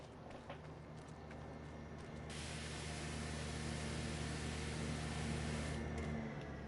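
A crop sprayer working a field in the Farming Simulator 25 video game gives a steady, even hiss that swells slightly and holds, with no talking over it.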